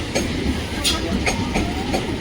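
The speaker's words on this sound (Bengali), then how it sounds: "এই ট্রেনটা যাবে এখন ক্যানিং ডাউন যাবে" A local train bound for Canning runs through a suburban station near Kolkata, giving a steady, loud rumble of rolling wagons with faint rail clatter throughout, and no voices.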